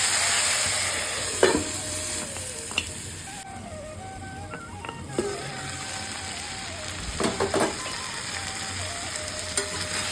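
Vegetables with turmeric, salt and green chillies sizzle steadily in a pan, with occasional clinks and scrapes of stirring over the continuous close frying hiss.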